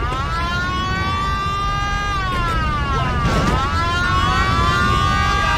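Wailing siren of a police car in the video game Mafia: The City of Lost Heaven, rising and falling steadily and continuously over steady street traffic, with a sweep in pitch midway through.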